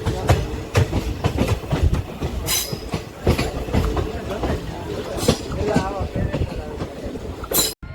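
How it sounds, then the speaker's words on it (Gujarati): A train pulls out of small Lusada station in rainy weather, wheels clattering and rumbling close by with rhythmic clicks, brief squeals and a sharp bang near the end, while voices talk faintly. "આપણી લુસાડાથી ટ્રેન ઉપડી ગઈ છે"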